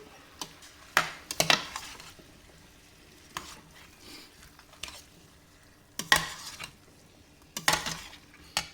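Pork curry gets stirred in a pan, with bursts of metallic scraping and clanking from the utensil every second or two over a low, quiet sizzle between strokes.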